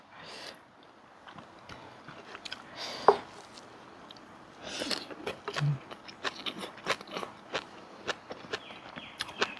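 Someone eating rice with chili paste, boiled vegetables, boiled eggs and leftover fried tilapia makes soft, close chewing, squishing and small crunching sounds in an irregular rhythm, with occasional light scrapes and no talking.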